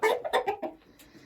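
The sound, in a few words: hen clucking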